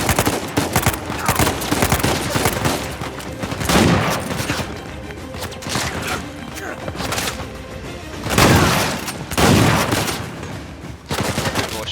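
Pistol gunfire in the video game Uncharted 4, with repeated bursts of shots and impacts across a loud, busy battle mix, while a person talks over the action.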